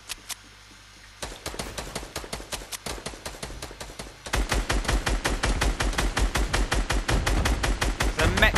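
Rapid automatic gunfire in a shooting video game, with sparse bursts at first that become a continuous, louder stream of rapid shots in the second half. No one speaks.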